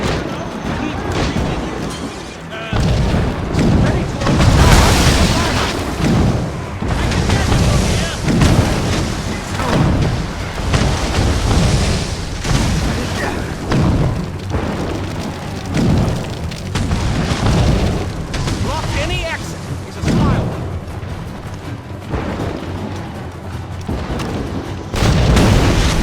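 Naval cannon fire in Assassin's Creed Rogue, a dense run of heavy booms and blasts rolling almost continuously with loud low-end rumble, voices shouting in between.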